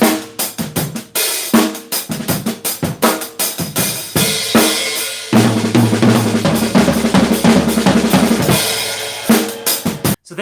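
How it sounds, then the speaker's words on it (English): Close, loud drum kit on a slow rock backbeat, driven by kick and snare with cymbals, broken by dense rapid 32nd-note fills across snare and toms. No voices are heard. "if you're playing a slow backbeat, like a rock or some sort of funk groove, and you wanted to play that as like a 30-second note fill"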